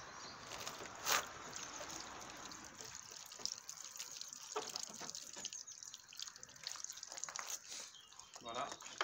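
Water rinsing a car headlight after wet sanding with P2000 paper, a soft continuous splashing and trickle with a louder splash near the start and faint dripping throughout.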